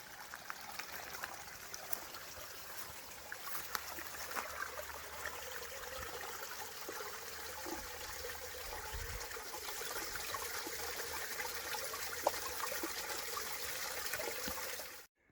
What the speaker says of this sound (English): It's always good to see a bit of water running out of the hills.